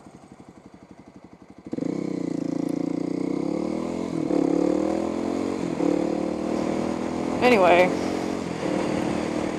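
A new motorcycle's engine catches and runs at a high, buzzy rev as the idle screw is turned down, the pitch sagging slightly, with someone speaking briefly over it.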